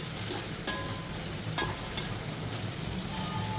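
Ginger garlic paste fries with onions in a pan for chicken liver biryani, a steady dense sizzle with occasional louder crackles and stirring scrapes, alone without talk.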